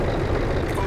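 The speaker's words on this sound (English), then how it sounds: "I can barely hear anything over these fucking engines" Vehicle engines in a World War II tank combat video game set in Belorussia, a steady loud low roar filling the whole moment with no breaks.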